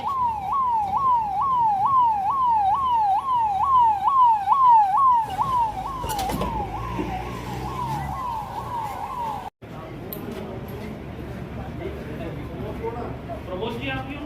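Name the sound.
ambulance siren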